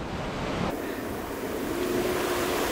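Ocean waves roll in at a beach in Cateel, Davao, Philippines, a continuous close surf wash with gusty wind buffeting the microphone and no talking.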